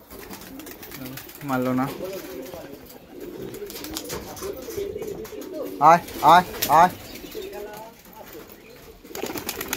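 High-flying pigeons coo in a loft, with a few soft calls sounding close by while someone talks and calls out to the birds.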